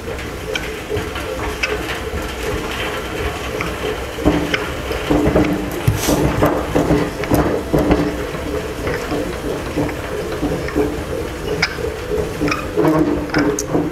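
A hand-cranked honey extractor spins natural comb frames, giving a continuous close clattering, ticking mechanical whir with steady rhythmic rattles and knocks throughout.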